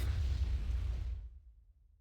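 A single deep mortar explosion in the strategy war game Wargame, a loud low boom that rumbles and quickly fades away into near silence.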